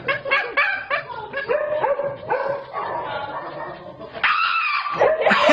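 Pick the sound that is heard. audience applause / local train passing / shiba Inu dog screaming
shiba Inu dog screaming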